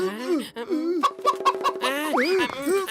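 A rooster in a Motu Patlu cartoon episode clucks in a voiced, imitated cackle, with rising and falling tones and a quick burst of staccato clucks, close and loud amid cartoon dialogue.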